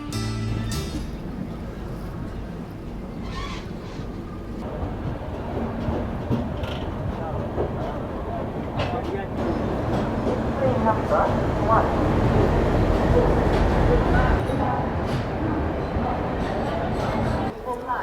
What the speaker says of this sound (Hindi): भोपाल पहुंचने का जो सही समय था हमारी ट्रेन का वो था सुबह 6:10 का, लेकिन ट्रेन यहाँ करीब 20 मिनट पहले आ चुकी है